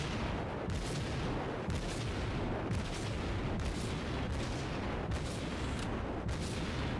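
Naval guns fire in a World of Warships battle against a Kuma cruiser, a steady sequence of evenly spaced booming salvos roughly once a second over a continuous rumbling background, moderately distant and muffled.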